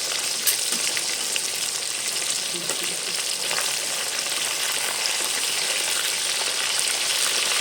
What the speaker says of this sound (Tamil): பாருங்கள், மீன் ஒரு சைடு நல்லா வெந்திருக்கு